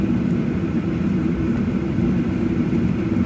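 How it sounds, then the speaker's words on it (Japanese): A JAL airliner taxiing to South Wing gate 8 at Haneda Airport after landing on Runway A, heard from inside the cabin as a steady, loud low rumble of engine and cabin noise that holds constant throughout. "この飛行機は南ウィング8番ゲートまで移動してまいります。"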